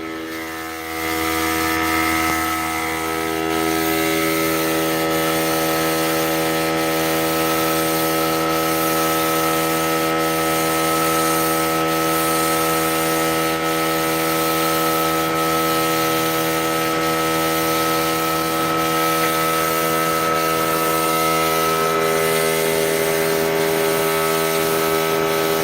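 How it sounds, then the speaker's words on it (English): A steady, continuous hiss of a Critter paint sprayer applying clear coat to furniture over the droning hum of an air compressor, holding loud and even throughout with no talking. "we're using the critter sprayer"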